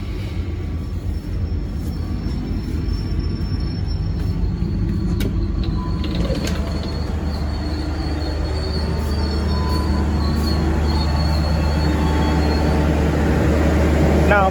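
A train pulls into Kutoarjo station in Indonesia, its wheels squealing in drawn-out metallic tones over a loud, steady rumble of rolling railcars, with no talk.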